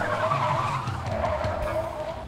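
A cartoon car tears away with its tires skidding, a loud, close, sustained screech over a revving engine that fades only slightly by the end.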